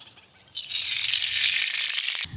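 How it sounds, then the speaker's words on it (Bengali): Black cumin seeds hit hot oil for a mustard and green chilli khoyra fish curry, setting off a loud, steady sizzle that begins abruptly and then cuts off near the end. "কালো জিরে ফোড়ন দেব।"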